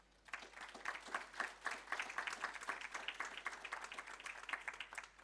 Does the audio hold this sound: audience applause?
yes